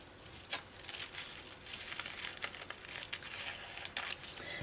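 Paper is trimmed for a collage in a planner, giving close, faint crinkling and rustling with small scraping and tearing sounds in brief bursts, no talking.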